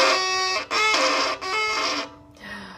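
A bowed string pressed too hard, giving three crunchy, gritty strokes in a row with short gaps between them, close and solo, then a fainter brief scrape at the end.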